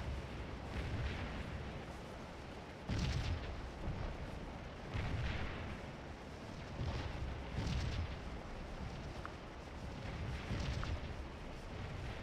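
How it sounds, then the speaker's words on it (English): Artillery booms in the Civil War strategy game Scourge of War: Antietam during the fight for the East Woods. Deep cannon blasts go off at irregular intervals, some distant and some heavier, over a low rumbling battle bed with no voices. "Directly issuing some orders to some artillery over here."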